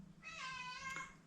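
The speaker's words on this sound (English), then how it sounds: "here comes my cat" A house cat lets out a single drawn-out meow, clear and close, lasting about a second against a quiet room background.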